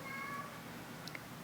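A house cat gives two short, faint meows near the end of a quiet indoor moment, with a soft hum and a brief squeak before them.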